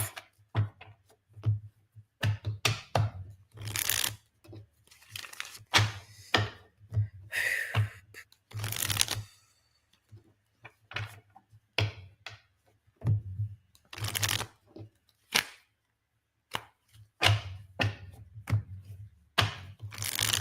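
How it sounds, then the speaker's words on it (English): Tarot cards being shuffled by hand in uneven bursts of crisp riffling and slapping, separated by short pauses, close and fairly quiet over a low steady hum. "That was a weird shuffle."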